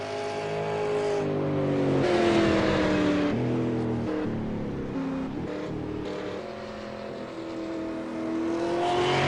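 A V8 Supercar in a racing video game pushes through a fast lap at Barber Motorsports Park. The engine holds a loud, steady roar, rising and falling in pitch with each gear change and corner, with no talk over it.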